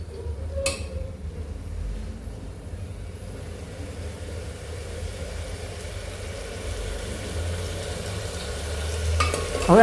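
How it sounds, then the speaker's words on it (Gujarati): Finely chopped tomato cooks in a pan, a soft continuous sizzle under occasional scraping stirs, with a sharp clack early on and a faint low hum beneath. "હવે આપણે આમાં એક બારીક કાપેલ ટમેટો નાખી દઈશું। હવે આપણે આને બરાબર મિક્સ કરી લઈશું।"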